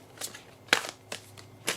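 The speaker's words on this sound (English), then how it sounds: "Let's go ahead and shuffle and see what we get." A fairy oracle card deck is shuffled by hand, producing several quick, crisp papery bursts and slaps spaced irregularly against a quiet background.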